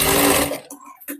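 Sewing machine double-stitching the sleeve of a katori blouse, a short loud whirring run that cuts off into brief fabric handling.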